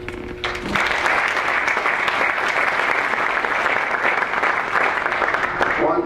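Sustained applause from an audience at a golf association summer meeting fills the room steadily for several seconds after a brief lead-in of voices.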